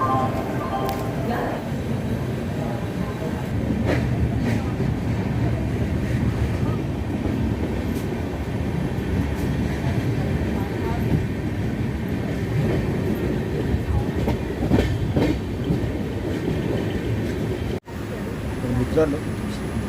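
The Mahalakshmi Express passenger train rumbles steadily along the rails with a continuous low roar and faint clatter, with muffled voices now and then, close and unbroken throughout.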